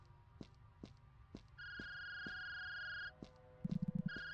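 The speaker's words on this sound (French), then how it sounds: "Mon téléphone sonne." Mobile phone ringing in the horror video game Fragment of Dread, a steady electronic tone lasting over a second, then a rapid buzzing vibration burst and another ring, with regular soft thuds like footsteps underneath, faint overall.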